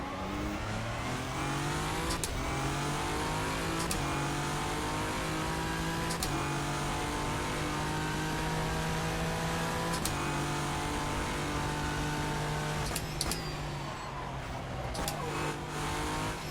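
A race car engine in rFactor 2 at Suzuka rises steadily in pitch as it revs through the gears, with brief sharp shift breaks, a continuous loud drone with no speech.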